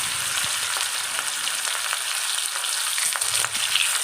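Pieces of katla fish fry in hot oil in a pan for a Bengali fish curry, giving a steady, close, loud sizzle and crackle that runs unbroken throughout with no voices.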